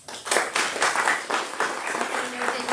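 Sustained audience applause at a ribbon-cutting ceremony for Mid Valley Urgent Care, many hands clapping steadily and fairly close throughout, rising in waves without any speech.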